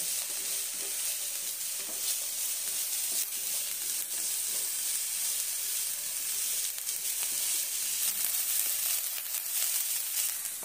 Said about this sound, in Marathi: बारीक चिरलेला कांदा फ्राय करून